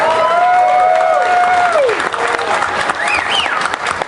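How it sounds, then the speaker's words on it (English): A crowd at a Texas barbecue festival bursts into loud, sustained applause, with a voice ringing out over the clapping. "So let's give all of them a round of applause."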